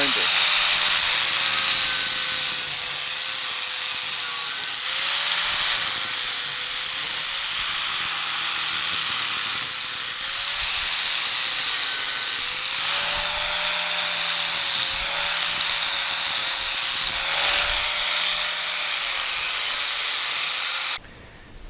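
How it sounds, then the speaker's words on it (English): An angle grinder cleans up a clamped metal piece while fitting a spare tire carrier on a trailer, a loud steady high whine that wavers slightly as it bears down, running continuously and cutting off at the end. "we'll clean it up a little with the grinder."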